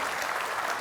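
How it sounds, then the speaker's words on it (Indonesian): An audience applauds a moderator at an Indonesian presidential candidate's health development dialogue in 2009, a short, dense burst of clapping that fills the space evenly with no voices. "Tepuk tangan dulu untuk moderator kita."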